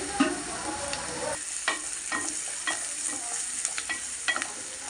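Onions fry in a pan for a prawn curry, a steady low sizzle broken by several sharp scrapes and taps of a spoon stirring against the metal, close and with no voices.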